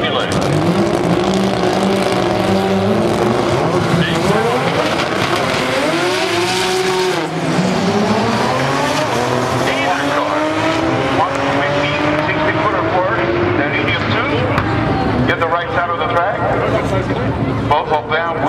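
Drag race cars, one in the Team Chevy lane, roar loudly down the strip with rising, sweeping engine pitches and tire noise, while an announcer talks over the din.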